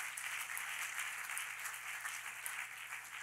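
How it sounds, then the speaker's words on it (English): Church congregation claps hands during a sermon, a steady, fairly loud patter of many hands with a few sharper individual claps, sustained for several seconds with a faint low hum beneath. "Give me five people to clap your hands"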